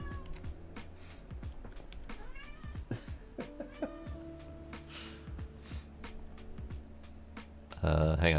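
A pet cat meows repeatedly up close, with several short rising and falling calls scattered over a quiet room tone of soft typing and shuffling, and a sudden rustling burst at the end.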